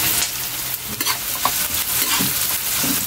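Onions sautéing in a pan for coconut-milk ginataang lukan, a steady close sizzle and fry with stirring scrapes throughout, no talk.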